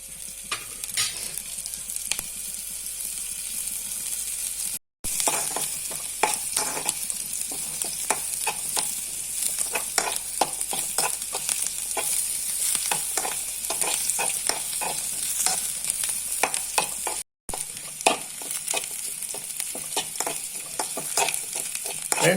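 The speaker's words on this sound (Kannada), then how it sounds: "ಈಗ ನಾವು ಈರುಳ್ಳಿ, ಬೆಳ್ಳುಳ್ಳಿ ಮತ್ತು ಕರಿಬೇವಿನ ಸೊಪ್ಪನ್ನ ಇಲ್ಲಿ ಒಳ್ಳೆ ಮಾಡಿ ಫ್ರೈ ಮಾಡಿದ್ದೇವೆ" Onion, garlic and curry leaves frying in a pan for Mangalorean chicken gassi: a dense, steady sizzle with constant crackle, close and loud, with frequent stirring scrapes and two very brief dropouts.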